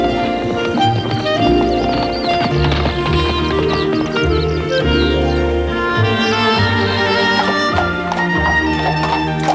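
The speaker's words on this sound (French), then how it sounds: "C'est un très bon cheval." Horse hooves clip-clopping steadily at a walk under continuous orchestral music in a 1991 period drama, the hoofbeats fairly faint and partly buried beneath the score.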